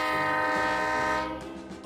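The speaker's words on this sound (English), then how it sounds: "It runs on tracks and goes choo-choo." A train horn sounds loud and close, one sustained, rich blast that holds steady and then fades as the train rolls along the tracks.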